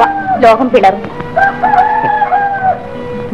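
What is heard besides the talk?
rooster crowing, film sound effect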